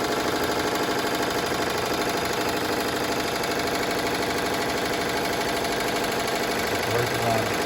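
An embroidery machine stitches a placement outline on the back of a letterman jacket, giving a steady, fast mechanical whir that runs unchanged throughout at moderate volume.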